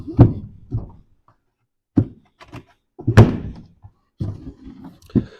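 Metal tool drawers in a workshop being pushed shut, producing a string of close, loud thunks and knocks in uneven bursts separated by brief silences.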